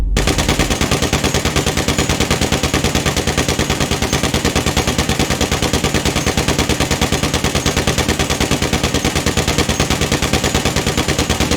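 A Combat MG machine gun in GTA 5 fires one continuous, rapid, loud burst of evenly spaced shots lasting the whole stretch, with no talk over it.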